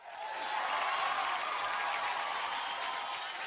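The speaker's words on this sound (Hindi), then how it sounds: "जोरदार तालियां फॉर स्टार गिल्ड अवार्ड" Dense applause from the audience at the Star Guild Awards ceremony, a steady, even roar of clapping that rises quickly and holds throughout with no voices over it.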